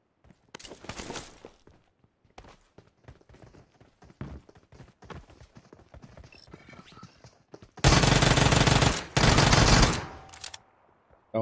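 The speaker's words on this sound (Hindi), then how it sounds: "अरे गन फाइट कर रहे हैं तुमसे, गन फाइट हमसे?" Gunfire during a gunfight in the mobile game Battlegrounds Mobile India, scattered sharp shots and taps followed by two loud sustained bursts of automatic fire, then a faint tone.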